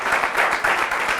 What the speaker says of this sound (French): Je vous demande de l'applaudir très,